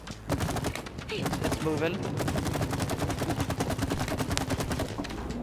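Rapid, loud, continuous automatic gunfire in the video game It Takes Two, bursts of shots in quick rhythm under a brief spoken remark and game sound.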